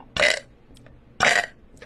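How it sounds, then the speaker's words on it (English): Two loud, close belches a second apart, each short and throaty, with quiet room tone between them and no talk. "constantly I will be posting burps"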